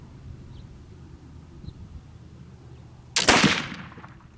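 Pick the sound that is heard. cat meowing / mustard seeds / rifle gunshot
rifle gunshot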